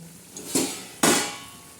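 Metal lid lifted off a cooking pot holding lemon and green chilli pickle, heard as two sharp close clanks about half a second apart, each ringing briefly before fading, with no talking.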